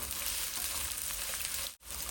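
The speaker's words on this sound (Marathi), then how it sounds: "ओनियन घालणार आहोत आणि हलकं असं परतून घ्यायचं आहे आपल्याला." Onion sautés lightly in a pan for a rice noodle chow mein, with a dense, even sizzle close by, cut off by a brief moment of silence near the end before the frying resumes.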